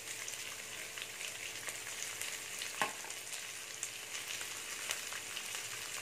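Sliced onions sauté in a pan for fish molly, giving a soft, steady sizzle and crackle with a few faint stirring scrapes, quiet and close.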